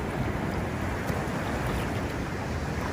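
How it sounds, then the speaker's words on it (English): Ocean waves wash onto a beach in the Dominican Republic, a dense, continuous roar of surf mixed with wind noise on the microphone, steady and close with no pauses. "That is nature right there making those waves."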